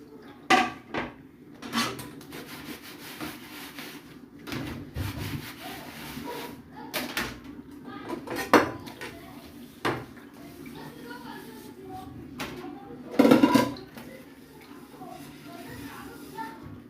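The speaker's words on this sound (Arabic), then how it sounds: "نغسل المواعين ونظبط الدنيا دي كلها" Dishes and pots clatter in scattered bursts, with clinks and scrapes at irregular intervals and a voice talking now and then.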